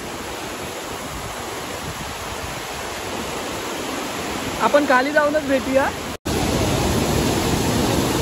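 Loud, steady rushing water of a waterfall roars throughout in rain, with a voice speaking briefly over it; the roar cuts out for a moment before resuming just as strongly.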